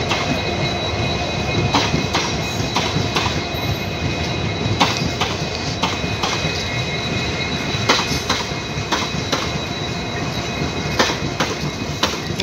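A DEMU passenger train runs past a station platform at Dohna halt on the Bareilly City to Kashipur line, loud and close, with steady rolling rumble, rhythmic wheel clicks over rail joints and faint squeal.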